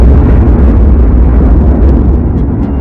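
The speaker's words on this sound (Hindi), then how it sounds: "बीच के इस भयंकर दबाव के कारण एक विशाल विस्फोट हुआ" A huge, sustained explosion effect representing the Sun's birth: a loud, dense rumbling roar that holds steady for about three seconds, with no talking.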